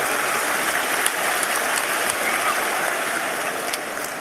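Crowd at an Islamic public sermon gathering claps together, a broad hissing wash of applause that stays level and fairly loud throughout, almost rain-like in texture.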